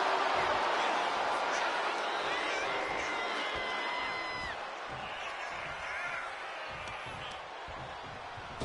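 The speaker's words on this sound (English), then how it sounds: "Jacob Fatu getting the crowd involved here." Wrestling crowd at an Extreme Rules match between Jacob Fatu and Drew McIntyre, a broad arena roar of cheering that swells early and then eases to a steady murmur, with faint whistles and thuds in the mix.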